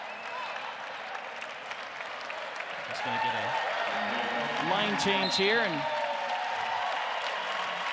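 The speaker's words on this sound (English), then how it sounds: "Sokol Arena crowd to rise and salute." Crowd at Sokol Arena applauding the players late in a women's college basketball game, a broad sustained wash of clapping and cheering that swells midway, heard under a commentator's voice.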